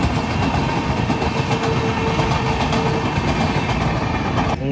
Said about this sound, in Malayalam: എടാ മോളിൽ ട്രെയിൻ പോടാ